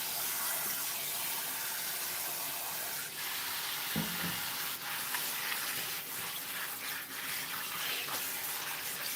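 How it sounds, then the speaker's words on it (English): Turnips washed in a bowl of water at home, giving a steady wet hiss and splashing throughout, with a brief sharper slosh partway through; no one speaks. "Nobody probably needs instruction on how to wash their veggies, but that's how I wash my turnips."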